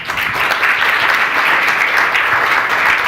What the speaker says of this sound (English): I want to give a great round of applause for the panel here.